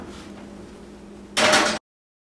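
An oven door closing as cinnamon roll dough goes in to proof in a switched-off oven, heard as one short, loud, broad burst after a quiet stretch, cut off abruptly.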